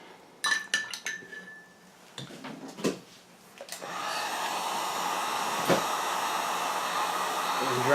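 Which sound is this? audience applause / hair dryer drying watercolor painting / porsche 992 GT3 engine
hair dryer drying watercolor painting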